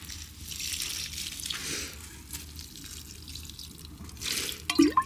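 Water poured from a container onto the soil of potted plants, a soft, steady trickling and splashing close by, with a couple of sharper drips and clinks near the end and no talking.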